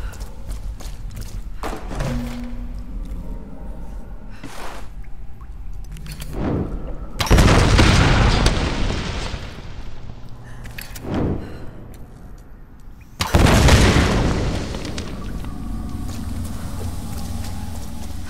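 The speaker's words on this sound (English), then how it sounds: "Good thing that explosions are inaudible to bad guys." Explosions in the Tomb Raider video game: two heavy booming blasts with long rumbling decays stand out over sparse thuds, clanks and gunfire-like bursts of in-game action.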